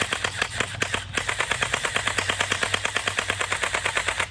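Rapid gunfire from a real gun, a steady string of sharp close shots roughly every tenth of a second over a low humming background, with no talking.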